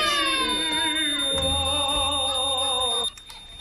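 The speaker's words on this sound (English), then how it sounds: "Bloody smoke alarm" A household smoke alarm set off by burnt toast shrills continuously at close range for about three seconds, then cuts out abruptly.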